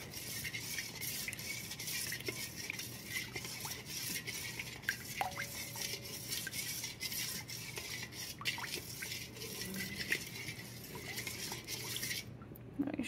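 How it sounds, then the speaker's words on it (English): Oils for a pumpkin goat milk soap being mixed together in a bowl, giving faint, close stirring and soft liquid swishing with occasional light clinks, quiet throughout and with no talking. "once you have it all in there, you're going to mix together to blend all your oils."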